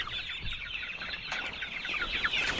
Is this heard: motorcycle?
no